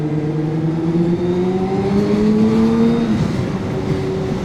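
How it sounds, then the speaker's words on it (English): A 750cc sportbike engine downshifting on the road, loud and close, with revs stepping down in falling tones before a blip and steady wind rush. "good downshift"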